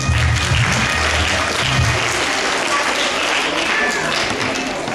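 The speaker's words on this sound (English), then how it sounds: "you have to encourage them with applause please" Audience at a student ceremony applauding, a loud, dense burst of many hands clapping that holds steady throughout.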